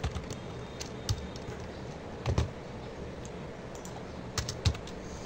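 Text being typed on a computer keyboard while writing in a PowerPoint slide, with soft, uneven bursts of key clicks at a moderate distance and a steady low room hum underneath.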